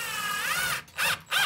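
A power drill drives a screw into the wood of a picnic table, a steady high motor whine that drops off, then two short bursts of driving up close.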